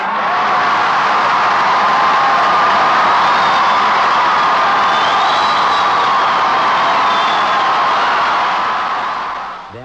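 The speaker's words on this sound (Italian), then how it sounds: "L'applauso che fecero a Ryan fu spontaneo, fragoroso e sentito." A large crowd in Jonestown applauding and cheering for Ryan, a steady, loud, dense roar of clapping and shouting that holds for the whole stretch, with occasional whoops rising above it before it fades at the end.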